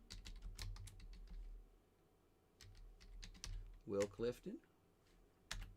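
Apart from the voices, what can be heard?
typing a folder name on a computer keyboard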